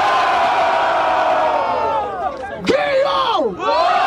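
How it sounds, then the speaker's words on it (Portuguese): A loud crowd at a rap battle roars and cheers continuously, with a rising whoop cutting through near the end. "Barulho, ó. Barulho para as rimas do Krauk"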